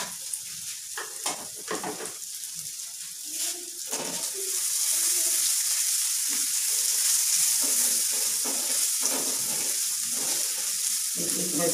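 Spices with salt and red chili powder frying in a pan, a soft continuous sizzle that grows steadier after a few seconds, with faint scraping and small clinks of stirring.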